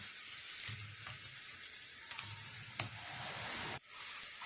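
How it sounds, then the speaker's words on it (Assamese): Tomatoes sizzle in a frying pan as they are stirred and mixed, a soft steady fry with faint scrapes of a spoon, ending abruptly. "এনেকৈ মিহলাব যাতে বিলাহীখিনি অকণমান ভাগি যায়।"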